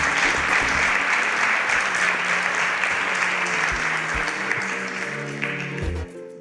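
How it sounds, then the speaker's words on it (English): Steady, loud audience applause filling the room on a game show stage as eliminated contestants walk off, fading slightly toward the end, with a few low musical tones underneath. "A round of applause for them as they exit the stage."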